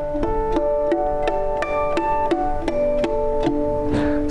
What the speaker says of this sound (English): where I'm going to sound the artificial harmonics.